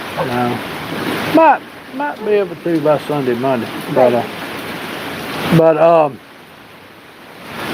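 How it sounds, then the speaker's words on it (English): A light rain shower falls at night in Alabama, a steady broadband hiss that continues beneath voices chatting close by and lingers alone at the end. "Pretty good little shower now."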